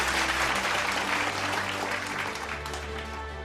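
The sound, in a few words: applause for cutting the celebration cake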